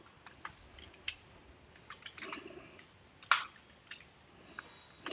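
Code being typed on a computer keyboard in VS Code, with quick, irregular key clicks close by and a sharper, louder keystroke partway through, alone without talk.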